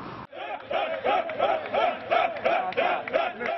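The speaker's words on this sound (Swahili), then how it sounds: "ikawa shangwe na nderemo kwake na wafuasi wake wakifurahia uamuzi" Supporters cheer and shout in jubilation after a court ruling reinstates an MP for Lungalunga constituency, a dense crowd roaring in repeated rising waves of voices, loud and close, with no single speaker standing out.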